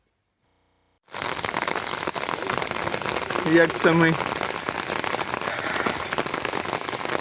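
After a second of silence, hail suddenly pours down hard and loud on a rural homestead, a dense continuous clattering on surfaces, while a voice speaks briefly partway through.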